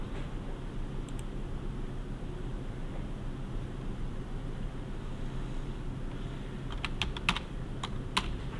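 Rapid computer keyboard typing heard close by over a constant low hum, with a short burst of keystrokes early on and a quicker flurry near the end as text is entered.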